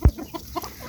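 A chicken gives a few short, close clucks after an opening thump, brief and fairly loud with no talking.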